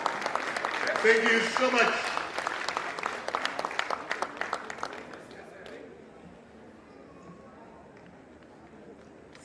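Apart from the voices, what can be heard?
audience applause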